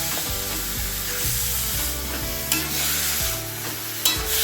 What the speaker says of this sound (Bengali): আমি ভালো করে মশলাগুলো মান কচু ডাঁটার সাথে মিশিয়ে নিয়েছি।